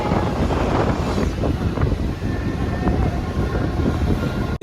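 A passenger train travelling from Delhi to Haridwar rumbles steadily throughout, a continuous loud roar of rolling wheels and rushing wind from inside the carriage.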